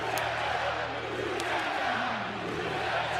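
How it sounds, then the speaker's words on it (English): A pro wrestling crowd roars and cheers after a match win, a dense, loud, continuous wall of shouting voices that fills the arena. "Listen to this crowd."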